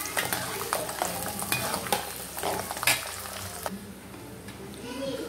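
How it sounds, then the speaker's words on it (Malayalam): Mustard seeds and garlic sauté in hot oil for lemon pickle, a close crackling sizzle broken by frequent sharp stirring scrapes and clicks, which calm to a softer frying hiss near the end. "കടുക് പൊട്ടി അതിലോട്ട് വെളുത്തുള്ളി ഒന്ന് വഴട്ടി"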